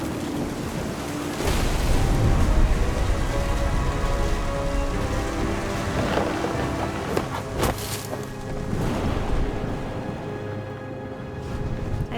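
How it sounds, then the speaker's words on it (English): Steady rain patters down during a thunderstorm in What Remains of Edith Finch, a broad wash of hiss with a few sharper cracks and surges, moderately loud and continuous, with no talk. "thunder sounded much too close and full of angry power"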